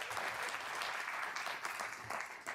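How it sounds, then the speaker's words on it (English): At a town board swearing-in ceremony, an indoor audience gives a steady round of clapping that holds for a couple of seconds and then tapers off near the end, moderately loud. "Give him a round of applause."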